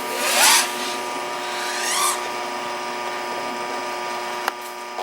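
OxFPV Acrolite 230 quadcopter motors at full throttle punch, with two loud rising whines surging near the start and again around two seconds, then settling into a steady electric hum with a sharp click near the end.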